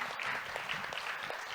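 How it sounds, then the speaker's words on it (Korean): A crowd claps steadily, a warm patter of applause filling the room at a town-hall talk with South Korea's Minister of Unification. "박수로 맞아주세요"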